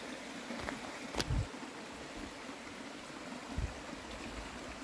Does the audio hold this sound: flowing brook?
yes